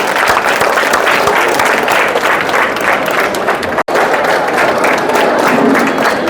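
A crowd at a commemorative public meeting claps hard in a dense, steady burst of applause with a short cut partway through, loud and close, faint voices mixed in.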